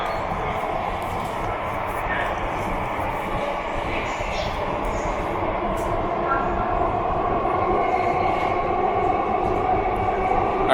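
Mumbai Metro Aqua Line underground train pulling away from Vidhan Bhavan station, a steady loud rumble and whine heard from inside the carriage, with faint voices under the noise.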